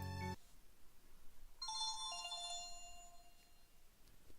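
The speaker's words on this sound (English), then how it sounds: "Is that my phone?" A phone ringtone goes off in a home kitchen during a cooking stream: bright, melodic electronic tones ring out clearly after a brief opening thump and hold for a couple of seconds before fading.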